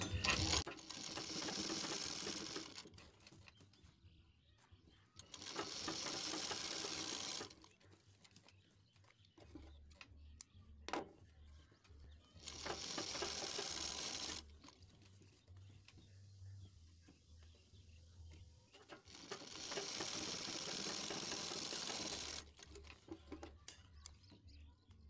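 Sewing machine stitching a half collar onto a garment, running in three long bursts of steady mechanical whirring separated by quieter pauses, close and alone with no talk.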